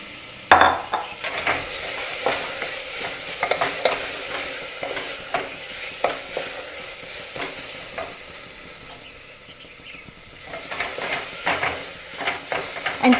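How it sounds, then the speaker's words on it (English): Lentils fry in a pan while being stirred, with a soft continuous sizzle broken by irregular scrapes and clinks of the spoon against the pan, fading briefly before picking up again. "And keep stirring so that it will not get burnt."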